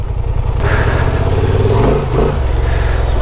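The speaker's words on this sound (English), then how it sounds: "Now we're using the idle speed to relax for a bit." A Honda Transalp 750 adventure motorcycle's engine runs at idle during off-road slalom training. It gives a close, steady, throaty rumble with no talk over it.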